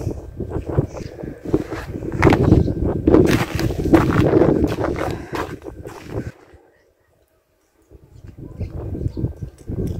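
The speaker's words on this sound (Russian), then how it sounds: "Ветерок дует, да." Wind blows gustily outdoors beside a chicken coop on a cold day, a steady rushing buffet on the microphone that drops out briefly before returning.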